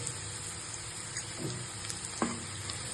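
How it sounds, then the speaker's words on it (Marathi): Garlic spinach khichdi stir-fried in a pan, giving a steady, close sizzle of frying with a few soft stirring scrapes over it. "आता याला छान परतून घ्यायचे साधारण अजून 1 मिनिट."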